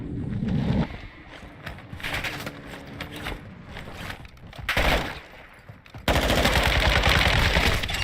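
A bot fires a shotgun in a Call of Duty DMZ match on Ashika Island, with sharp, loud blasts and bursts of gunfire arriving in uneven clusters, the last volley dense and sustained to the end.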